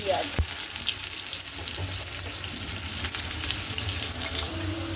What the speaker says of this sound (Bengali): এদিকে এই যে তেলে আলু ভাজতে বসিয়ে দিয়েছি